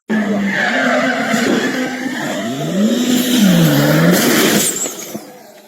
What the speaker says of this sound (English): Rally car crashes into barrier and engine explodes.